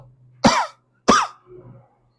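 Two sharp, loud coughs about half a second apart, close by, followed by a faint wheezy breath.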